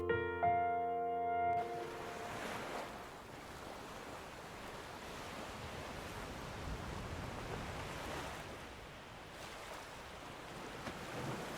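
Sea waves washing onto a beach, a steady broad wash of surf with wind noise, moderately loud and continuous after a brief musical tone at the start, no voices.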